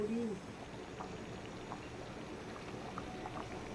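Water bubbles and simmers softly in a pot, a faint continuous gurgling with a brief voice-like tone at the start.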